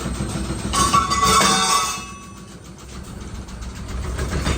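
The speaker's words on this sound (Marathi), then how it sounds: "स्पिनचं ऑप्शन नाही ना दाबला तर ते मशीन डान्स करायला लागतंय" A low rumbling drone with a rattling, vibrating quality from a washing machine on a stand during its spin cycle, louder in the first two seconds then settling into a quieter steady hum.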